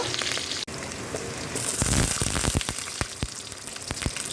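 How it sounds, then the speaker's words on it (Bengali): Black cumin with green and dried chillies hit hot oil as a tempering for a greens dish, giving a loud, steady close sizzle scattered with sharp crackles and pops, with no talking. "এটার মধ্যে দিদি কালো জিরে কাঁচা লঙ্কা শুকনো লঙ্কা ফোড়ন হিসেবে দিয়ে দিল"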